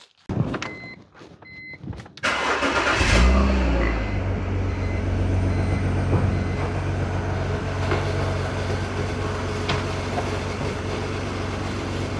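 A car engine being started during a service: a few clicks, then the starter cranks and the engine catches into a loud, steady idle that carries on.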